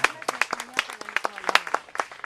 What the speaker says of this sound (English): let's give a round of applause for Marco for his amazing guitar music